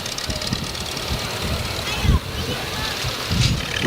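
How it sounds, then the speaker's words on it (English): Antique Farmall tractors with old spoke wheels rumble at idle in a town Christmas parade, a steady low engine chug with a couple of louder thumps, under nearby talk and outdoor crowd noise. "Both of those are Farmall tractors."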